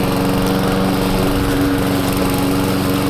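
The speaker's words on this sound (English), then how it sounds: "Almost hit the mower." A lawn mower runs steadily and loudly up close in a garden, its engine drone constant throughout with no pauses.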